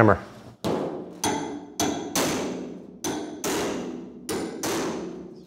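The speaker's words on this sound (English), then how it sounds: "Get a heavier hammer." A heavy hammer pounds metal in eight sharp, evenly spaced blows, each strike ringing out briefly before the next, loud and close with no talk.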